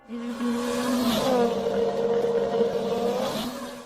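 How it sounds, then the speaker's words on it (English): Race cars in a street race in Chile roar past close by, their engines a sustained loud whine that sweeps in pitch as they pass, with no talk. "A number of cars rush past"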